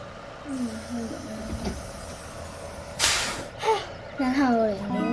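In a school bus simulator video game, the bus door opens with a short, loud pneumatic hiss midway, while a voice hums and vocalizes before and after it over a steady engine drone.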